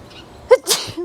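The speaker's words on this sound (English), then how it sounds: "Gesundheit." A single sharp human sneeze, close and loud, preceded by a brief intake of breath and followed by a short voiced sound.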